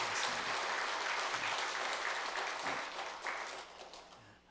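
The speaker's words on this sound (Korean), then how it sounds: "여러분, 시작하는 마음으로 우리 성가대에게 큰 박수로 한번 격려해 주면 좋겠어요." Congregation applauding the church choir during a Sunday morning service, a steady wash of many hands clapping at once that holds for several seconds before slowly thinning out and fading.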